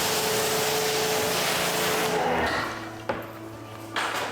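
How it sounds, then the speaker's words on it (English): A sponge scrubs a Chevy Tahoe, a dense close rubbing swish that fades after a couple of seconds, followed by quieter handling and a few soft knocks. "Oh, using the sponge today"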